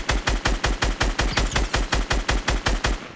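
Rapid automatic gunfire in the battle royale game Fortnite, about sixteen evenly spaced loud shots in a steady burst that cuts off with a short decaying tail.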